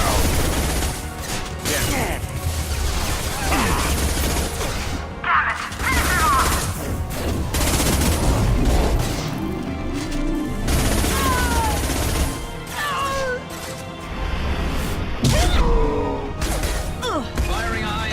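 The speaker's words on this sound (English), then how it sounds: "Firing a high impact shot." Combat gunfire in Mass Effect 2, with repeated sharp shots, impacts and crashes amid a busy mix of effects and music, loud and close throughout.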